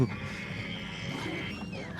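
A dugbog creature in the Hogwarts Legacy video game growls and roars aggressively, a sustained rough snarl that stays loud for the whole stretch under steady game ambience.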